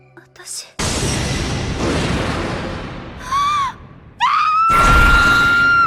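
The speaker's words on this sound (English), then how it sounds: "she wakes from a dream and screams in terror" An anime woman screams in terror on waking from a dream, loud piercing shrieks in several bursts rising in pitch, separated by noisy rumbling and dramatic sound effects.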